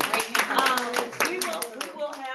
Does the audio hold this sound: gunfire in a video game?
no